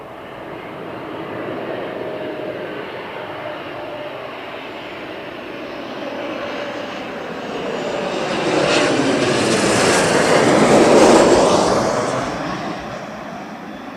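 A small KLM Embraer jet at London Heathrow Airport roars steadily, its engine noise swelling to a loud peak as it passes close by, then easing off slightly.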